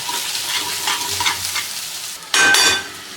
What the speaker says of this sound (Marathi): ते सुके मसाले आणि ओला मसाला आपल्याला एक मिनिटांपर्यंत व्यवस्थित परतवून घ्यायचा आहे